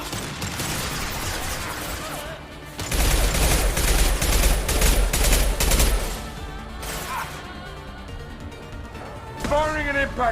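Gunfire rattles in a Mass Effect 2 Legendary Edition firefight: a loud, dense fusillade of rapid shots and impacts fills the middle few seconds, with quieter shots before and after. Speech comes in between the bursts.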